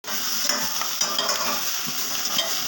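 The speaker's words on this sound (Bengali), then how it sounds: "একটু নেড়ে দিচ্ছি" Eggplant fries in a pan for a coconut eggplant dish and is stirred with a spatula. A continuous close sizzle runs throughout, with soft scraping strokes.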